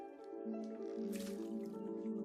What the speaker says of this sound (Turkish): Aa, bir şeyler baloncuklar geliyor